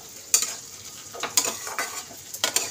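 Potatoes and greens are stirred in a frying pan, with a soft, steady sizzle broken by sharp spoon scrapes against the metal, each coming about a second apart.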